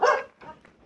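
A dog gives one loud, close bark followed by a softer second yip, brief and alone with no talk.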